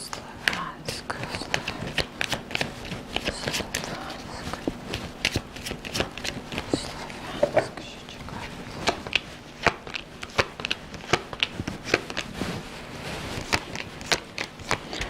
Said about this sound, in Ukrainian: Слухайте, Катерина, я якісь дуже дивні карти бачу